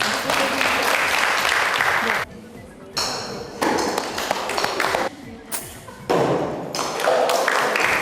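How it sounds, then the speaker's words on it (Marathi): Audience applause for prize winners at a local quiz-style event in Guirim, a dense wash of clapping in loud bursts separated by brief lulls, with talk mixed in. "फक्त आमी तांकां मोठ्यान ताळयो दिवंक शकता"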